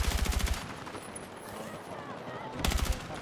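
Automatic gunfire in Battlefield 6, rapid bursts of shots at the start and again near the end, with a quieter stretch between and faint voices underneath.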